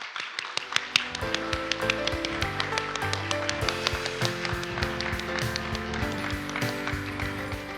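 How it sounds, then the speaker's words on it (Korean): Crowd applause greets the Seoul party chairman at a Democratic Party launch rally, a dense, steady patter of many hands running throughout with music-like tonal sounds layered underneath. "박수로 맞아주세요"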